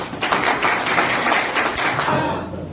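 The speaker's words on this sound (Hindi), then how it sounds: "एक बार तालियां बजा सकते हैं" An audience at a network business meeting breaks into applause, a dense burst of many hands clapping close and loud, fading out near the end.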